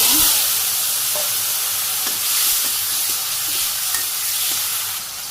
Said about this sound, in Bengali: তো এই তেলের মধ্যে আমি একটু তেজপাতা দিয়ে দিলাম আর একটু যে জিরে গোটা জিরে